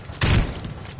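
A demon bursting in an Evil Dead video game: one loud, close blast with a harsh crackling edge, around a quarter second long, fading into a low rumble.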